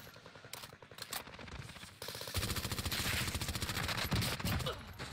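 Rapid automatic gunfire bursts from Warzone Rebirth gameplay, loud and dense, with sharper clustered shots building into continuous sustained firing over the second half.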